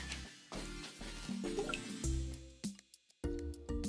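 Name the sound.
pouring food coloring into oil and water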